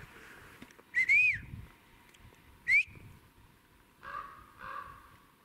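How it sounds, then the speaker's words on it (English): A crow gives two sharp, fairly close caws about two seconds apart outdoors. Two softer, rougher calls follow near the end against quiet background noise. "I'm sick of that crow, won't stop."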